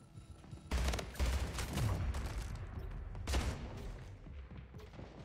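Gunfire in an online shooter video game, with rapid bursts of shots and clattering volleys in a few clusters over a busy background, fairly close and moderately loud, with no speech.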